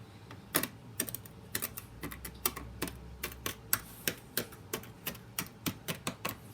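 Purple science-kit sand being stirred or shaken gives a run of sharp, gritty ticks and clicks in an uneven rhythm, close and fairly quiet, with no talking.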